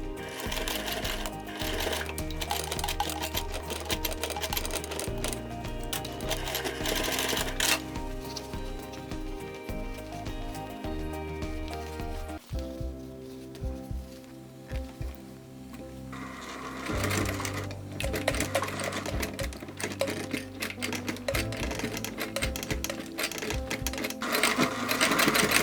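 A hand-cranked sewing machine stitches a crossbody bag strap padded with fleece interfacing, its needle thumping in steady rhythmic runs that pause briefly and restart, close and clear with no talking over it.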